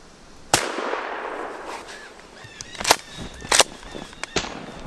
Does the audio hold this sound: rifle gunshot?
yes